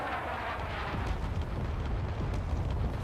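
Field mortar shells exploding in the Space Engineers video game, a dense, continuous rumble of overlapping blasts with sharper bursts breaking through, loud and sustained without any talk.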